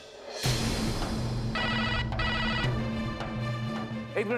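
A telephone rings with a repeating electronic tone pattern that starts abruptly after a short silence, fairly loud and steady, with clicks and background sounds mixed in.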